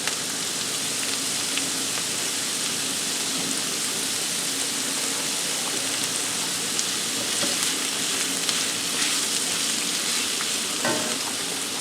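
Onion frying in rendered bacon fat for feijoada, a steady dense sizzle and crackle filling the clip, close and loud, with occasional stirring scrapes and no voices.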